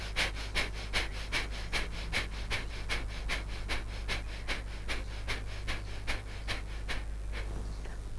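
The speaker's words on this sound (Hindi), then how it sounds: "जोर जोर से सांस खींचो छोड़ो, खींचो छोड़ो, भस्त्रिका प्राणायाम प्रारंभ" Forceful bhastrika pranayama breathing: rapid, rhythmic sharp inhale-exhale bursts repeating steadily about every half second, close and fairly loud over a low steady background hum.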